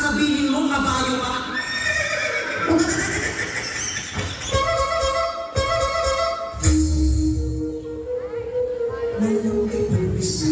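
A horse neighs and whinnies loudly in repeated bursts, with hoof clip-clops and people talking over it.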